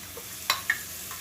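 Boiled broad bean pieces fry in a pan for a tomato and bean curry, with a faint sizzle under two quick scraping stirs.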